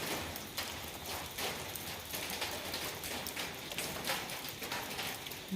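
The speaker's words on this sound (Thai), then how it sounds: "สายฝนเนาะที่โปรยปลายมาอย่างแรงเนาะ" Rain falls steadily in a soft, continuous patter with scattered louder drops, fairly faint and even throughout, no voices.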